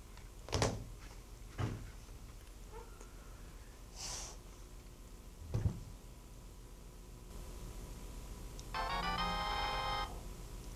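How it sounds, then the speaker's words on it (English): After a few scattered thumps and knocks in a quiet room, a cell phone ringtone starts near the end, a steady electronic ring lasting a couple of seconds. "God damn it, cell phone."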